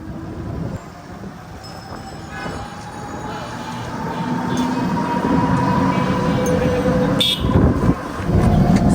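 Auto rickshaw riding through traffic, a continuous rattling engine rumble that builds gradually, with brief horn toots and passing vehicles in the mix.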